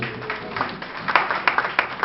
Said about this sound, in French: Applaudissons très très très fort pour la parole.